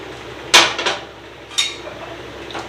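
Cauliflower florets and pointed gourd pieces tumble into a cooking pan for a home-style Chinese mixed vegetable dish, giving three or four sharp, close clattering knocks spaced irregularly over a quiet background, with no talking.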